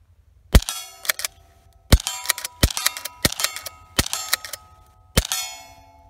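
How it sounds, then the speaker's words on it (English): A Remington 572 pump-action .22 LR rifle fires quiet CCI CB shorts with soft cracks, followed by loud metallic clacks of the slide being racked. The sharp, close, isolated bursts are spread irregularly with short silences between them. "Listen to how loud racking it is compared to firing."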